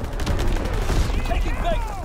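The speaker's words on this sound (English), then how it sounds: "Firing division artillery." Division artillery fires in a video game battle, a brief stretch of dense, overlapping shots and rumbling impacts, loud and continuous.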